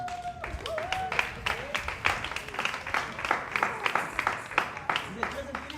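An audience claps along during a French storytelling show about a giraffe, a brisk scattered patter of hands under a speaking voice, moderately close.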